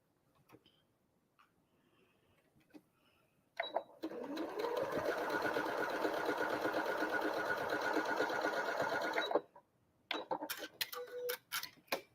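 Sewing machine stitching a quilt block, a steady close whirring run of about five seconds preceded and followed by a few quiet clicks and handling taps.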